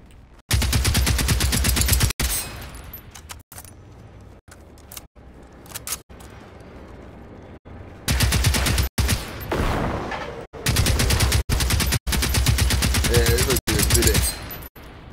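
Gunfire from a weapon in the video game Generation Zero: loud, dense bursts of rapid shots broken by short pauses and quieter stretches, close and dominant across the whole stretch.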